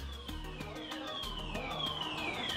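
A smart fire alarm system sounds a continuous, loud electronic siren with repeating sweeping tones, paired with a flashing light and spoken multilingual evacuation instructions, steady throughout.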